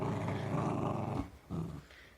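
A Jack Russell terrier growls in a low, sustained rumble up close, pauses briefly, then growls again in a shorter burst.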